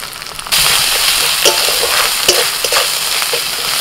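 Ginger and garlic with turmeric, salt, coriander, cumin and red chilli powder sizzle loudly in a pan. The sizzle jumps up suddenly, then keeps a steady crackling hiss with occasional stirring scrapes.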